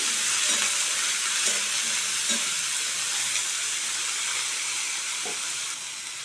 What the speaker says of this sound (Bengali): এবার আমি কেটে রাখা আলু বেগুনগুলো দিয়ে দিলাম। ভালো করে একটু নেড়ে দিলাম।